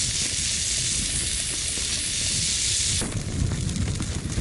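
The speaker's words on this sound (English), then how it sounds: "it's just a matter of browning that with the onion" Minced steak and onion sizzle as they brown in a pan over a camping stove outdoors, giving a steady loud hiss that gets rougher partway through as the meat is stirred.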